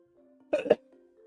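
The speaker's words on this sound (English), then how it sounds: "Oh, I'm gonna sneeze." A single sneeze, or a sneeze-like burst, in two quick close bursts, loud against a quiet background with a faint steady hum.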